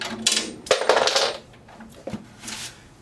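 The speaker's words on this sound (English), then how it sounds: "You might want to refrain from dropping your drum keys." A metal drum key dropped on the floor while a snare drum is tuned: a couple of bright metallic clinks and a bounce, close and fairly loud, fading into quiet room noise.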